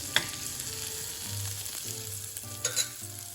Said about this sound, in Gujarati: તો લગભગ 2 થી 3 મિનિટ માટે આપણે ઓનિયનને થોડો સોફ્ટ થવા દઈશું.